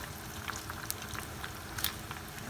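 Hot, crispy fried cauliflower sizzles in Manchurian sauce, a steady close crackle with scattered sharp pops and bubbling, fairly quiet and continuous with no talking.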